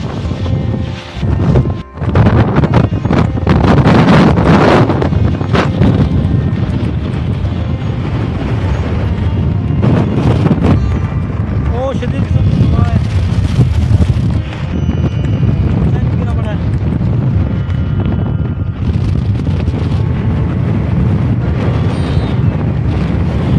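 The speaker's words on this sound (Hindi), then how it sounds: "बहुत ज़बरदस्त हवा चल रही है" Strong wind buffeting a phone microphone outdoors in a Pakistani village, loud roaring gusts that rise and fall throughout, with someone talking over the rushing noise.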